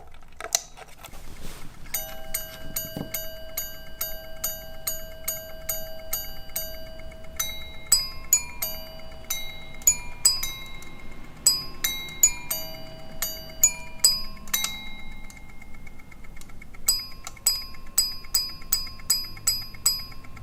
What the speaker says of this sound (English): not only does it chime at the time, but it also replicates the chime of Big Ben